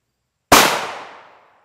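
A single rifle shot of hardened-steel-core ammunition striking Hesco 3611C Level III+ steel body armor: one sharp, loud crack with a bright impact ring that decays over about a second, alone with no voices.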